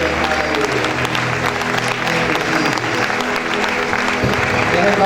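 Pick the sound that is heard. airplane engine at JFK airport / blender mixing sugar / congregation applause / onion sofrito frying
congregation applause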